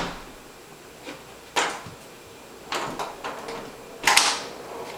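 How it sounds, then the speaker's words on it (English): Several soft knocks and clatters spread over a few seconds, ending in a sharper bang like a door shutting nearby, in a quiet room. "Oh, shut the door."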